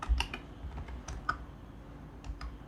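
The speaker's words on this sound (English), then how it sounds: "in here we are going to type pip install" Someone types a command into a command prompt on a computer keyboard, a short run of quiet, separate key taps with small gaps, close and without talking.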